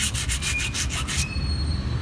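Mountain bike disc brake pads rubbed on abrasive paper to quiet noisy brakes, giving quick rhythmic scraping strokes for about a second, then continuing rough rubbing, close and with no talk.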